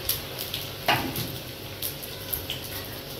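Potato, cheese and corn patti samosas fry in hot oil over a high gas flame, giving a steady close sizzle with light crackles and a few sharper spatters and clinks, no voices.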